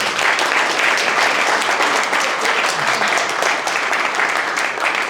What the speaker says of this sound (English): I think we need a round of applause for both of you.